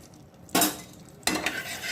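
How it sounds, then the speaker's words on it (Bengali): A spoon stirs ghee heating in a pan, giving two loud bursts of close scraping and faint sizzle with quieter pauses between them. "নাড়িয়ে দিয়ে একটু গরম হয়ে যায় ভালো করে"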